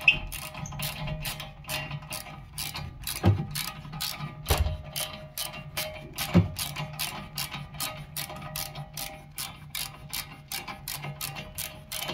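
A ratchet with a 7 mm Allen socket works on the rear brakes of a 2019 Volkswagen T-Roc 1.0, giving a steady run of sharp clicking pawl ticks, close and even, with a few heavier clunks.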